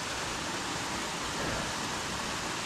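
A steady, even hiss of river water runs by a green lane in Brechfa, Wales, continuous and moderately loud for the whole short stretch, with no speech.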